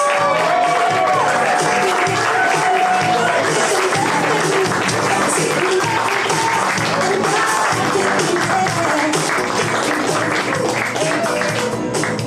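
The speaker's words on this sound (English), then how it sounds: "clapping to make some noise right now" Loud, continuous clapping and cheering from a live podcast audience fill the room, with whoops and shouted voices mixed into the dense crowd noise throughout.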